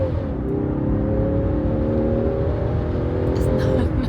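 Land Rover Defender with a suspected misfire pulling hard from a standstill, a loud steady engine drone and road rumble heard from inside, with a voice speaking over it.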